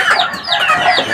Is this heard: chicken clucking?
yes